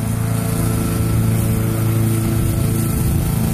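A lawn mower runs in winter, cutting weeds. Its engine drones loud and steady throughout, with a constant buzzing hum and no pauses.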